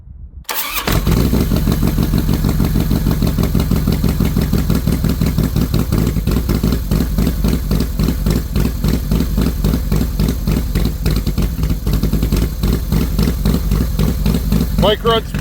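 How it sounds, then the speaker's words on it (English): A Harley Twin Cam 98 motorcycle engine fires up after a short crank and settles into a loud, lumpy, steady idle with an even potato-like pulse that carries on throughout. "Bike runs beautiful."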